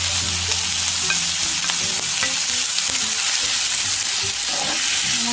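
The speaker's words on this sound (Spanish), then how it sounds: "Vamos a esperar a que se caliente un poquito para alargar la cebolla, para freír la cebolla." Chopped onion sizzles steadily in hot oil in a pan for an empanada filling, a dense continuous frying hiss with occasional stirring scrapes.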